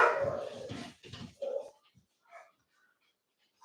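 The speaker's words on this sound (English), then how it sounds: "The dogs upstairs? Can you hear them?" Dogs bark and whimper upstairs in a few short bursts, muffled and somewhat distant, followed by quiet with faint sounds.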